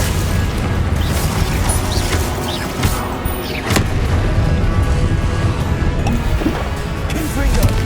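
Spell blasts and booming impacts from combat in the Hogwarts Legacy video game, with repeated explosive bursts over a dense, continuous rumble of action effects.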